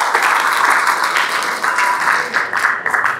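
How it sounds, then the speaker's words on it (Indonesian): Applause from an audience at a religious motivational talk, a dense continuous clapping that stays loud and fairly close for a few seconds. "tepuk tangan tuh semuanya"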